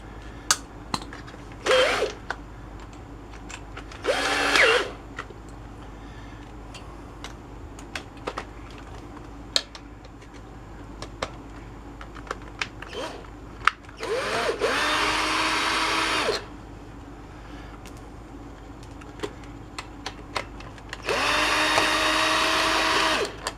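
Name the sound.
cordless drill backing out screws on Polaris Sportsman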